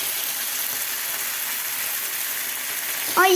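Fish shallow-frying in oil in a pan, a steady close hiss of sizzling throughout with a brief louder crackle near the end.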